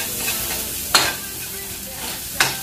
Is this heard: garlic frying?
yes